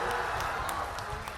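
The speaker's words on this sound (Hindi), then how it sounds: "ताली बजाइए सुनील कुमार जी के लिए।" A large crowd applauds at a Lok Sabha election rally in Bihar, clapping for Valmiki Nagar candidate Sunil Kumar. The clapping is a brief, dense, steady wash with no break.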